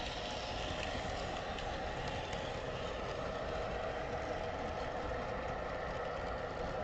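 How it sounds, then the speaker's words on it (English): Model train locomotives running on a loft layout, a steady continuous rumble and rolling hum with faint clicking, moderately close and unbroken throughout, with no talking. "Man, I love watching the locomotives come up the straight section."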